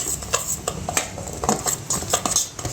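A metal spoon clinks and scrapes against a steel bowl while mixing a dry spice masala of salt and asafoetida for a homemade bhokar pickle, in a quick, steady series of close, bright taps with no talking.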